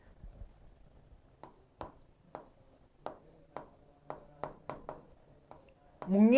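Chalk or a pen writes notes on a board during a history lesson, a series of sharp, separate taps and short strokes at an uneven rhythm, close and fairly faint, ending in a louder burst.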